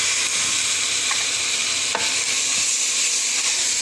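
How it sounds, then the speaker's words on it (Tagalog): Meat hits a pan of garlic, onions and bell peppers frying in oil, raising a steady, dense sizzle with faint stirring scrapes and a few light clinks, close and continuous throughout, with no talking. "lagyan na natin ang karne kasi nagmamadali ako"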